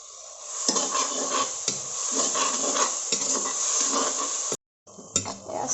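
Chopped tomatoes with salt cook down in a pan for a fish curry, giving a steady sizzle broken by repeated scrapes and clinks of a stirring utensil.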